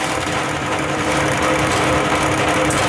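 A honey extractor spins frames of honey, giving a loud, steady whirring drone with a constant mechanical hum and broadband rush that stays even throughout, with no voices.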